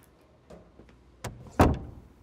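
A door swings shut in a Korean crime film as a man steps into a restroom, landing as one close, fairly loud thud near the end after a few quieter knocks and shuffles.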